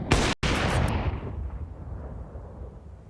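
Counter-Strike match gunfire from an AWP sniper rifle and an AK rifle, a sharp loud burst of shots followed by a long fading rumbling decay, no talk.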